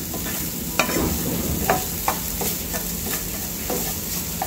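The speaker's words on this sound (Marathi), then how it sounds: "आपण 2-3 मिनिटं असं शिजून घेणार आहे." Vegetable momo filling cooks and is stirred in a pan, giving a steady soft sizzle with a series of separate spatula scrapes and clinks spread through the few seconds, close up with no talking.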